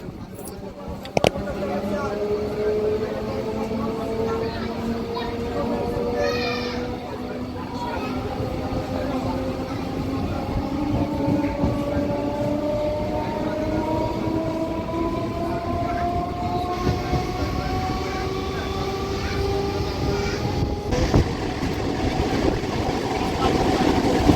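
A Howrah to Tarakeswar local train runs with a steady rumble of wheels and a motor whine that climbs slowly in pitch, heard from on board, with a couple of sharp knocks along the way.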